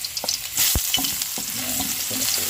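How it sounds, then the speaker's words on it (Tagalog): Tomatoes sautéing for sigang in a very hot frying pan, with a steady sizzle and a few sharp stirring clacks against the pan, close and fairly loud, no talking. "Igisa po natin yung ating sigang sa kamatis."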